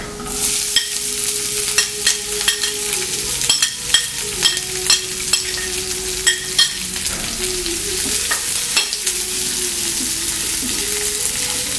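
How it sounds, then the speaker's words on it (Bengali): Onion added to lightly fried garlic in a pan for Bengali-style potol dolma gives a strong, continuous sizzle, broken by repeated sharp spatula taps and scrapes against the pan, with no talking. "রসুনটা হালকা ভাজা করে আমি এবার পেঁয়াজটা এতে দিয়ে দেব।"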